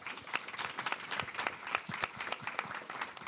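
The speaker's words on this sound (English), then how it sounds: "So a round of applause for our wonderful panel" A live audience applauds a panel of recruitment speakers at an event, a dense steady wash of many hands clapping at close to medium range, with no talk over it.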